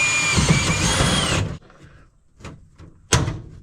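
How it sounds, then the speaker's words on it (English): A rivet being set into a rusty 1969 Camaro body panel, heard as a loud, busy burst of tool noise for about a second and a half, then a few quieter knocks and one sharp final snap. "Ready for rivets. Okay. Let's see. Rivet number 1."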